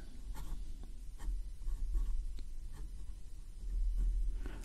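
Waterman Expert III fountain pen with a medium nib scratching softly across paper, a close, continuous rubbing of writing strokes over a low background hum.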